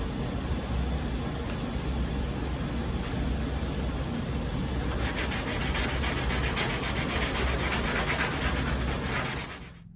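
Steady abrasive rubbing of 320 grit sandpaper on a Zenith CH 750 CruZer aircraft part, a continuous close scratchy hiss that runs unbroken and brightens partway through before stopping near the end.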